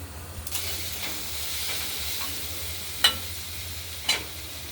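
Thinly cut pumpkin frying in oil in a wok, stirred with a few distinct scraping strokes over a low, continuous sizzle and steam hiss, no voices.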